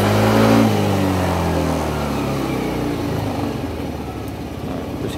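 A Yamaha Aerox 155 scooter engine revs high and then winds down into a fading idle, close and fairly loud, with no one talking over it.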